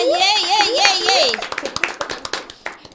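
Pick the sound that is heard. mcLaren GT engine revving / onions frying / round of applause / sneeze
round of applause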